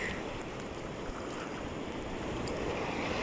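Continuous broadband surf noise rushes steadily, ocean waves washing onto a shore and pulling back, under some wind buffeting, with no voices.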